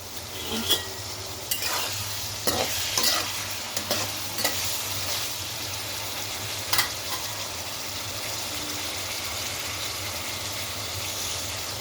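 Curry leaves and coriander frying with chicken liver in a pan, a continuous close sizzle broken by repeated scraping strokes of a stirring spoon, busier at the start and steadier later.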